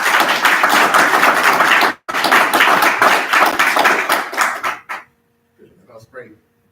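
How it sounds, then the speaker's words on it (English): A gathered community audience at an inauguration ceremony claps loudly for about five seconds, with a brief gap partway through. The applause then stops abruptly and a few faint sounds follow in near silence. "can you give a round of applause, please?"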